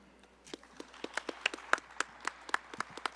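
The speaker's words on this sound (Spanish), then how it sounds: "un gran aplauso para José Moré" Scattered, sparse handclaps from a small audience at a national and international congress on Ayacucho music, welcoming a guest speaker: about fifteen separate claps, fairly faint and uneven, with no talking over them.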